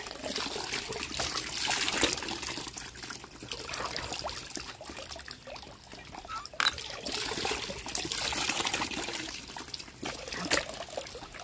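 Water trickles and pours steadily for several seconds, then is drunk, a soft liquid splashing with small gulps and bumps, no talking.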